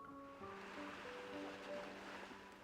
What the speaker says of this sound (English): Why do I hear waves in the background?